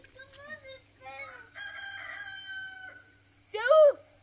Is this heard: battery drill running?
no